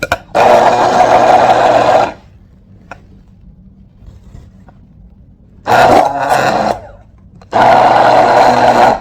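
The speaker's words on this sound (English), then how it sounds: "Basically, just blend until it's nice and smooth." A blender whirs in two loud bursts as avocado is blended until smooth, with quiet pauses in between and a third burst at the end.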